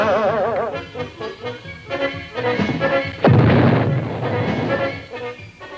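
Cartoon gunpowder blast: a sudden booming burst midway, preceded by musical, wavering voice-like tones and followed by a rumbling tail, set within a busy classic-cartoon soundtrack.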